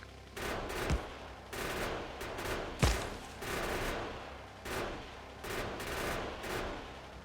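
Gunfire and explosive blasts from weapons in the Factorio video game, bursts of rapid shots with two sharp heavy booms, loud and continuous over an engine-like rumble.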